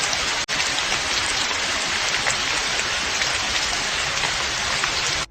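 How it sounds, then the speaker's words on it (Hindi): Steady, dense rain pours down in a continuous hiss, loud and close, with no voices. "बारिश शुरू हो गई।"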